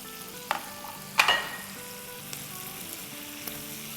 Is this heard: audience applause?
no